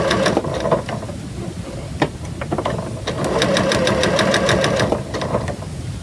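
Sewing machine stitching fabric pieces for quilt piecing, close and steady, with rapid needle clatter in bursts and brief pauses between runs.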